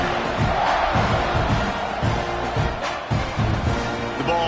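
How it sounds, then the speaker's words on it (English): A big football stadium crowd roars and cheers steadily as the defense takes the field after a kickoff, a dense wall of voices with surging shouts. "You think this crowd's going to get loud when their defense comes on the field?"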